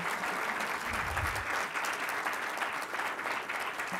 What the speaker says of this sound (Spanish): un fuerte aplauso para Catalina Bernal Pontón.